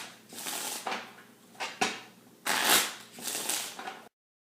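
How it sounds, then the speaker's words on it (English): A deck of quality playing cards is shuffled by hand in several quick riffles, crisp fluttering bursts close to the microphone with short pauses between them, ending in silence. "these cards can be shuffled and used over and over"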